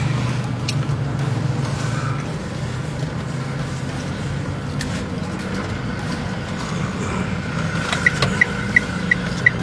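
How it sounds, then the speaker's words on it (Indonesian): Steady rush-hour traffic on Jalan Sematang Borang in Sako, a damaged road near a bridge: cars and motorbikes pass continuously in a dense, unbroken roar, with a few short tonal beeps near the end. "Kendaraan di jam-jam sibuk cukup padat"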